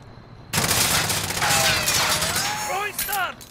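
Sustained automatic gunfire in Call of Duty: Modern Warfare bursts in suddenly and rattles loudly for about three seconds, with whistling, sweeping tones and voices mixed underneath.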